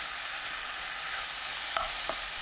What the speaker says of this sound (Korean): 팬 또는 냄비에 김치, 식용유 1큰술, 들기름 1큰술 넣고 중강불로 3분 볶습니다.